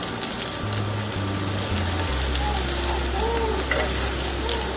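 A flatbread frying on a pan over medium heat as a little oil is poured around its edge, giving a continuous close hissing sizzle over a low steady hum.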